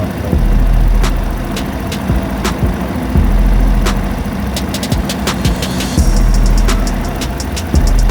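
Suzuki Avenis 125 scooter engine idling with a minor idle fault, a steady close low putter with regular sharp ticks and clicks repeating through the run, no voices.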